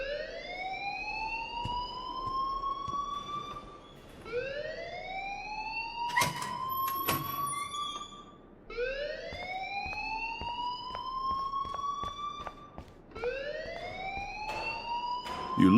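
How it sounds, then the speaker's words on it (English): A school alarm wails in the video game Life Is Strange, rising siren sweeps repeating about every four seconds with a few sharp clatters between them and no talking. "please turn off that alarm since that's your job"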